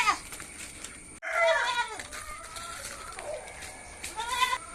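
Goats bleating near their shed in a backyard garden, several close, wavering calls rising one after another against quiet outdoor background.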